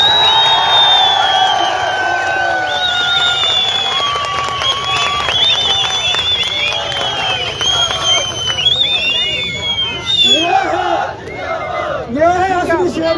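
A large crowd cheers loudly and continuously, full of shrill whoops, whistles and shouts, with a burst of excited yelling toward the end.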